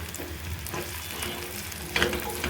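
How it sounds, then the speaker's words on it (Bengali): Chopped onion and garlic frying in oil, a steady low sizzle with soft scraping stirs and one brief louder crackle near the end, close by and alone. "তারপর দিয়ে দিচ্ছি আমি পেঁয়াজ কুচি এগুলো একটু ভেজে নেব"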